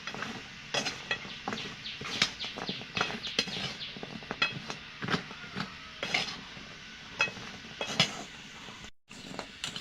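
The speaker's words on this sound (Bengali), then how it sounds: "এই অবস্থায় গজাগুলো দিয়ে দিতে হবে এভাবে নাড়িয়ে মিশে দিতে হবে" A spoon stirs crisp gaja sweets into thickening sugar syrup in a pan. It makes repeated scrapes, knocks and clinks against the metal, close up and in an uneven rhythm, with no voices.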